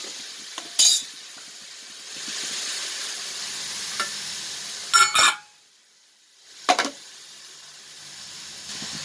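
Dried cod fish sautéing in a pan gives a soft steady sizzle, broken by a few sharp clinks and scrapes of a utensil against the pan.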